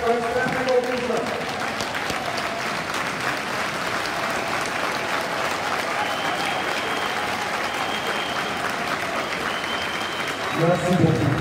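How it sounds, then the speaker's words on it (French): Sustained audience applause fills a hall at an investiture ceremony for RHDP candidates in municipal and regional elections, a dense, steady clapping that continues throughout, with a voice briefly heard near the start and again near the end. "c'est quelques applaudissements"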